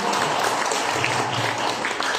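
An audience breaking into applause at an afternoon gathering, a dense, steady wash of many hands clapping together throughout, close and fairly loud.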